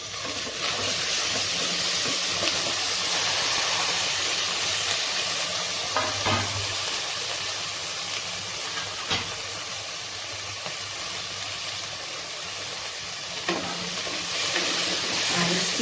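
Vegetables frying in oil in a pan for shakshuka, a loud steady hiss and sizzle with occasional scraping stir strokes, close and continuous throughout.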